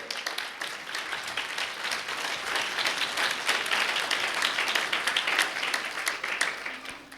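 A church congregation claps during a Christmas sermon, a dense, steady wash of many hands that holds for the whole stretch at moderate loudness.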